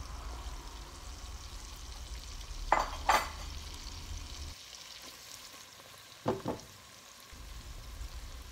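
Fried pork dropped into a pan with ginger, garlic and onion, giving a steady low sizzle with a few sharp bursts of stirring and scraping, then a quieter stretch before the frying noise returns.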